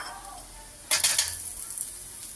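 Garlic and onion hit a hot pan for a fish soup, a bright hiss bursting up partway through and settling into a steady close sizzle after a quiet start.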